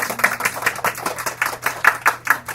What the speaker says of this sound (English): Can we do some clapping for him?